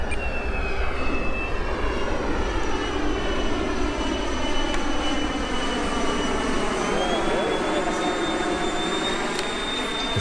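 A radio-controlled model airplane flies with a loud, steady engine drone, its pitch slowly rising and falling as the craft passes, continuous throughout with faint voices underneath.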